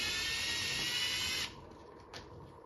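A power drill backs small Phillips head screws out of a 2008 Kawasaki Teryx cab, a high close whine that stops abruptly, followed by a brief second burst.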